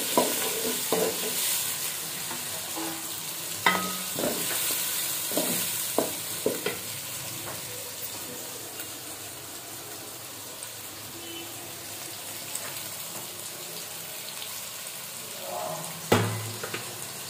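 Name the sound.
chopped onions frying until brown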